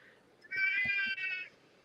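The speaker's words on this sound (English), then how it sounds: "that's my cat." A pet cat lets out one clear, drawn-out meow in two connected parts, close and fairly quiet over a faint, low background.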